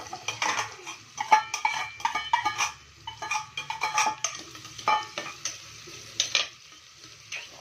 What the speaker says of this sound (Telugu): ఆయిల్ వేడి కాగానే ఫస్ట్ ఆనియన్స్ వేసేద్దాము